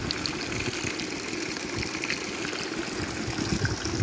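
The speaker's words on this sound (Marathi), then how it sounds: "तुम्हाला पाहू शकता कशा प्रकारे पाणी वाहत आहे" Water gushes out on its own in a steady, rushing flow, with a low rumbling undertone throughout and no voices.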